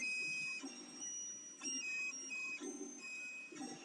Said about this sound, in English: So, the both 3D printers are running the same G-code.